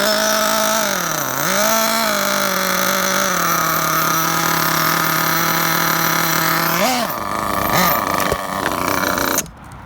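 An old nitro engine in a Losi 8ight RTR RC buggy runs loud and close in a steady, high buzzing drone, sagging and revving briefly as it falters near stalling, then stops abruptly at the end.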